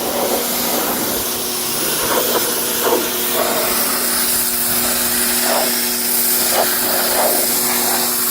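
A pressure washer hisses steadily for several seconds while spraying the interior walls of a dirty car, the broadband jet noise continuous and close, with faint intermittent knocks and scrapes beneath.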